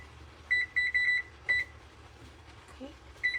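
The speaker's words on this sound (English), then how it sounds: "I'm going to set the timer." A kitchen timer is set during cooking of red beans and rice, giving a cluster of short, sharp electronic beeps in quick succession, a pause, then one more beep near the end, close and clear over quiet room noise.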